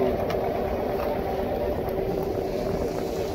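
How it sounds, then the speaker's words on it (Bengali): A fishing trawler's engine drones at sea in the Bay of Bengal off the Sundarbans, a loud, steady low rumble with water wash and no breaks. "আবার এই যে আমাদের ট্রলার,"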